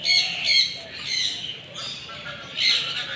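Park birds at a lakeside park in Pakistan: repeated bright squawks and chirps that come in bursts, fairly close and loud, with several birds calling over one another and no voices.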